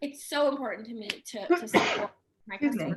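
A single sneeze bursts out mid-conversation in an indoor interview, sharp and close, with a woman's speech continuing around it.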